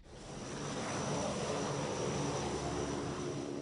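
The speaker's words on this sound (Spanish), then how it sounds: "los aviones que transportan la ayuda internacional aterrizan 1 o 2 veces cada 15 días" Aid airplane landing at Mogadishu airport, a steady distant engine roar that swells in over the first second and then holds evenly, with no voices.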